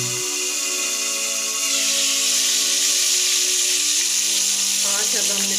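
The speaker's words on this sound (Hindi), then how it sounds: "मीडियम आंच पे हम फ्राई कर रहे हैं।" Chicken leg pieces fry in a pan over medium heat, a loud, close and continuous sizzle with a hissing steam edge that swells partway through; no one speaks over it.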